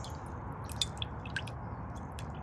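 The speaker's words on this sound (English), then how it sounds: "get the seeds from the center of the fruit and just stir it up" Soft wet squishing and small drips come close up as overripe dragon fruit pulp is stirred to free the seeds, faint against a quiet background.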